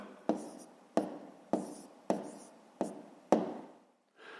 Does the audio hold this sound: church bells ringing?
no